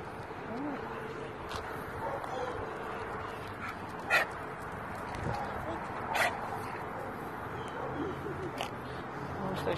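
A dog whimpers and gives a few short yips while eager to play, with roosters somewhere nearby. The sounds come in brief bursts over a steady outdoor background, and a person's voice is heard talking close by.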